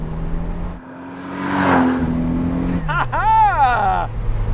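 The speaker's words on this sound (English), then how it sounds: "you just hold it on the brake, throw the throttle, build up the revs, and off we go" A 1000hp Toyota Supra MK4 with an automatic gearbox, held on the brake, builds revs with a rising engine note, then launches hard with brief wheelspin, its roar sweeping up loudly in the final seconds.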